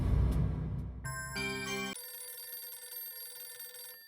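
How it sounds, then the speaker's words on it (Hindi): A mobile phone rings with a bright electronic melodic ringtone, clear and fairly close. It cuts in over a brief stretch of busy indoor background sound and then plays on alone. "किसका फोन है?"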